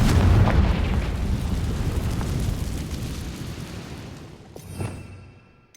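A Confringo fire spell bursts in the Hogwarts Legacy video game, opening with a loud, deep boom that rolls into a long rumbling decay, followed by a smaller crackling pop near the end as the blast fades out.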